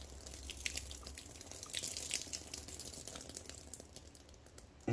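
Water drips and splashes from a UV sterilizer housing in a home water purification system as the glass tube is pulled, a brief burst of small wet drips and trickles, close and soft.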